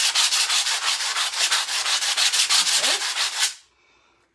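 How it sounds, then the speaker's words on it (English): Coarse sandpaper lightly sanding a wood furniture finish, about twenty quick, even back-and-forth strokes, loud and close, then an abrupt stop into near silence. "take the thicker, the coarser, this is the coarser sandpaper, and just lightly sand"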